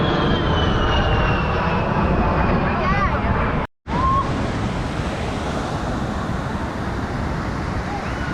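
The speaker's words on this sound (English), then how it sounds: "It's a very familiar sound. We dealt a lot with them in Afghanistan when I was there. It's the A-10s." A-10 military jets fly over an Ocean City, Maryland air show, a loud, steady roar with a whining pitch that holds for several seconds, then cuts out briefly and returns.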